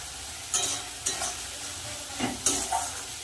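Onions with poppy seeds, turmeric and Kashmiri chili powder sizzle in a wok while a spatula scrapes and tosses them in four or five quick strokes; close and moderately loud, no talking.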